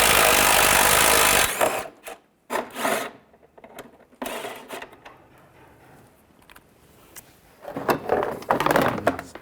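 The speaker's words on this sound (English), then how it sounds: "Using a 10mm socket, there's a bolt here and a bolt up there." Bolts being removed with a 10mm socket from the front bumper cover of a 1998-2010 Volkswagen Beetle: a loud burst of scraping at the start, then scattered ratchet clicks, taps and rubbing of metal and plastic up close.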